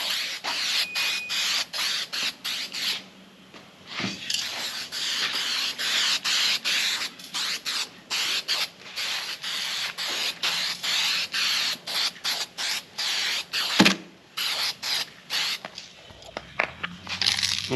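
Aerosol can of plastic adhesion promoter hissing onto a sanded car headlight in a light coat, a steady close spray broken into repeated short bursts with a couple of clicks or knocks.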